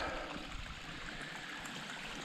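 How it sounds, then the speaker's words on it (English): Steady stream flowing through an Appalachian forest on Taylor's Ridge in North Georgia, a continuous close rush and trickle of water with no voices. "So we're just gonna follow this stream all the way down."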